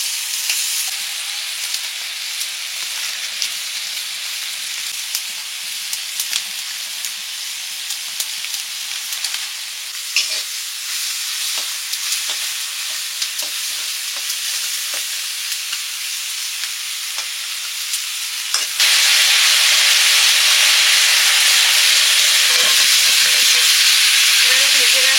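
Cumin mixed in water poured into a hot pan, a steady crackling sizzle of frying with scattered pops, then a sudden louder hiss of steam as more liquid hits the pan.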